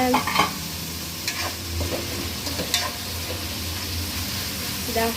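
Rice frying in oil in a pan, stirred steadily with a continuous sizzle and scraping clinks; talk is heard faintly underneath.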